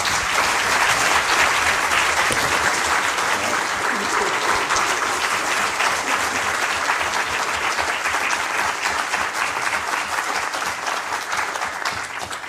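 A university audience at a public professorial lecture gives Professor Julia Longville steady, loud applause that runs unbroken for about twelve seconds and fades only slightly toward the end.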